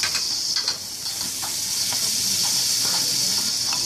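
Garlic, tomato and celery sauté in a pan, sizzling steadily and loudly up close, with faint stirring scrapes now and then and no talk.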